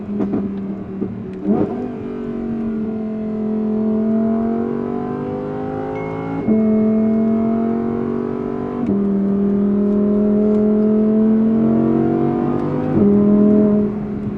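A high-revving Audi R8 V10 with a titanium exhaust climbs and drops through several gear changes, a loud, close, sustained howl with sharp shifts between pulls.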